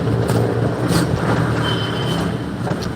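Road traffic passing outside a truck on a city street, heard as a loud, steady engine and tyre rumble with a few brighter swells.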